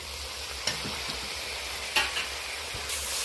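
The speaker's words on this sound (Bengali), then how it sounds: "এইভাবে আরও 2 মিনিট ধরে ভালো করে কষিয়ে রেডি করে নেব" Ground spice masala fries in hot oil for a Bengali mourola fish jhal chorchori, a steady close sizzle broken by a few sharp scraping strokes of a spoon stirring the pan.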